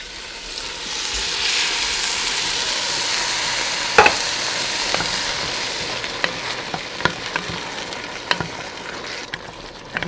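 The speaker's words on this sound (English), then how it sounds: "when I pour it in, you're gonna hear a large sizzle" Loud, steady sizzling of diced tomatoes poured into a hot pan, with occasional sharp clicks and scrapes of a utensil stirring and scraping browned bits off the bottom.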